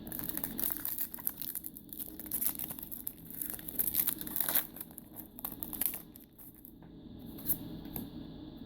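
Pokémon Fates Collide booster packs being torn open and handled, giving close, continuous foil crinkling and sharp tearing rips with rustling between, no voices.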